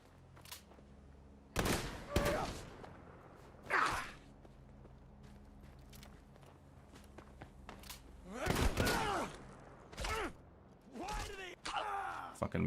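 Shotgun blasts and other gunshots in the post-apocalyptic game Fallout 4 with faction overhaul mods: several sharp, loud reports spaced apart over a low ambient hum, with one clustered volley near the middle.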